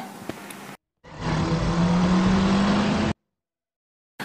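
A stolen car pulls away, its engine rising in a steady, moderately loud revving whine for about two seconds between brief silences.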